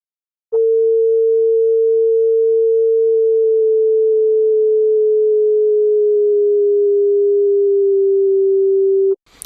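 A single steady oscillator drone from the Drone Machine synthesizer plugin, a pure sustained tone holding one pitch with slight drift for about nine seconds, loud and alone, cutting off abruptly at the end.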